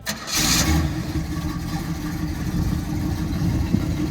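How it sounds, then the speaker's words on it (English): A 1969 Chevrolet Camaro Pace Car engine, off the road for 40 years, cranks and catches, then settles into a loud, steady running rumble that continues close by. "I'm going to fire the car up and see how it runs."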